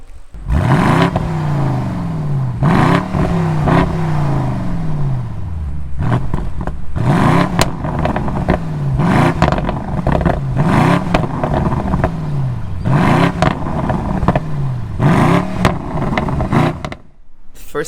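A BMW M850i xDrive's 4.4-litre twin-turbo V8 revs repeatedly, rising and falling in rhythmic bursts with a deep, throaty growl, loud and close throughout.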